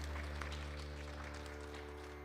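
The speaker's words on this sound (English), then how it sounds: "Please give her a big round of applause, everybody." Steady applause from a crowd, clapping continuously throughout with a constant low hum underneath.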